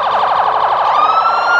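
A parade siren at a holiday parade in Kahnawà:ke wails loudly and close with a fast warbling, electronic, game-like tone that slides upward near the end.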